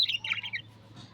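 A pair of lovebirds, one Australian and one African, gives a few quick, high-pitched chirps and squeaky calls close by, clustered in the first half second before a fainter final note.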